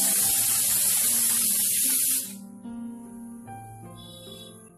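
Pressure cooker whistle venting steam while papaya boils in a cup of water over medium heat: a loud, steady hiss for about two seconds that cuts off abruptly, leaving quieter tonal sounds behind.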